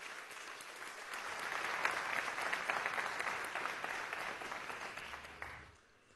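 Applause fills the chamber of Venezuela's National Assembly during a session, a broad sustained clapping from many members that swells, holds steady for several seconds, then fades out near the end.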